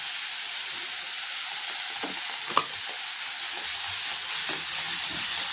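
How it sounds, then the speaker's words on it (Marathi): Onion and green chilli sizzle in hot oil, a steady, close frying hiss with occasional soft stirring scrapes and no talk. "तेल तापलं की आपण त्यात टाकायचं आहे कांदा आणि हिरवी मिरची"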